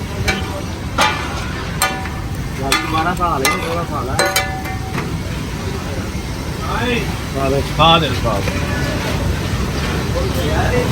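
Onions and whole dried red chillies fry in hot oil for khara masala keema, a steady sizzle running through with stirring clatter and someone talking over it.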